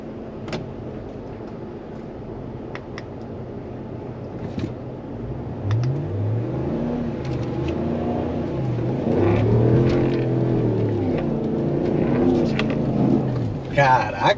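A Ram Rebel pickup with a 400-horsepower V8 engine revs in low range while climbing sand dunes, a deep rising and falling engine note that swells midway, with people talking inside the cab over it.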